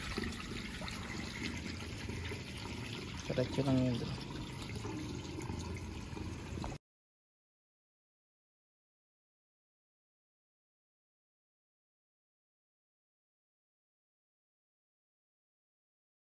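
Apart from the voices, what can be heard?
water draining from a rooftop tarp pond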